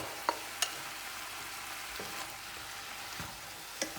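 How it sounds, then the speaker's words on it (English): Pheasant and paprika mince sizzles steadily in a hot pan, a constant faint frying hiss broken by a few sharp clicks and scrapes as it is stirred, with no voices. "we're just going to add back in our pheasant and paprika mince and give it a quick stir"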